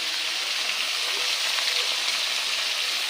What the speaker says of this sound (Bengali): নামিয়ে নিয়ে এই যে মাছ ভাজা বসিয়ে দিয়েছি।